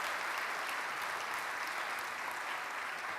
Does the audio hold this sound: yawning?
no